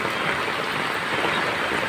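Heavy rain pours steadily onto surfaces during a flood in a subdivision in Calios, Santa Cruz, Laguna, a dense, continuous hiss that stays loud and even with no talk.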